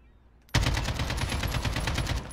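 AK rifle in a video game opens up abruptly in a loud, sustained burst of rapid automatic fire, each shot a sharp crack in a steady rhythm lasting about two seconds.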